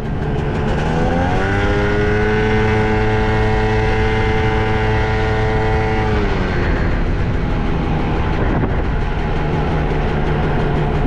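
An Italjet Dragster 180cc two-stroke scooter engine revs up and holds a high buzzing pitch for several seconds, then drops back to a rough idle with small blips, loud and close throughout.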